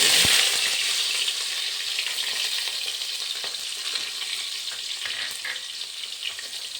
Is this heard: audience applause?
no